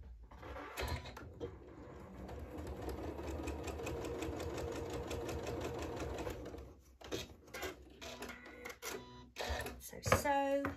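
A sewing machine stitches quilt star points in a rapid, even run of needle strokes for several seconds, then stops and is followed by short bursts, clicks and handling noises, with a voice speaking at moments.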